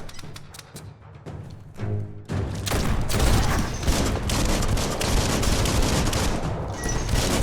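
Dense gunfire from the video game Biomutant: a few sharp shots at first, then a sustained, loud barrage of rapid overlapping bursts and booms that fills most of the clip, with no talking.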